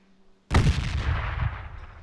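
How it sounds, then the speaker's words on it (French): In the video game Project Reality, after a brief quiet moment, a small explosive charge detonates in a single loud, sharp blast, followed by a rumbling decay that slowly fades. "l'explosion est minime, ça ne sert pas à détruire des véhicules"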